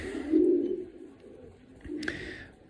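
Young pigeons in a pigeon loft give two soft cooing calls close by, the first longer and the second shorter with a brief sharp note, in a quiet setting.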